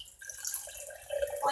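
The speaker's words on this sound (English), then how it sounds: "I'm going to add about maybe a little bit of water" Water pouring into a pot of turkey chili with salsa, a short trickling, splashing gurgle that rises and wavers over about a second and a half, fairly close.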